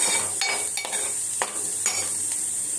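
Onion roasting in a pan for a vegetable curry with fresh coconut, a steady close sizzle broken by several scraping stirs of a spoon against the metal, with no talking.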